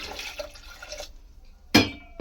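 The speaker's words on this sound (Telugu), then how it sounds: "దీంట్లో తగినంత వాటర్," Water is poured into a pressure cooker holding lentils, tomato, green chillies and curry leaves for tomato dal. A soft splashing pour is followed by a short pause, then a sharper, louder splash near the end.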